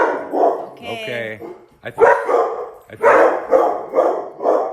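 A dog barking in a neighborhood, with several loud close barks in an irregular series, including a high whining yelp, while a person speaks briefly over them.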